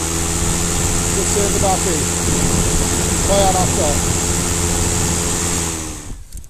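A Husqvarna LC551iv battery lawn mower runs in eco mode at about half speed, a steady whirring motor hum with a high whine, close by, while someone talks over it before it winds down at the end.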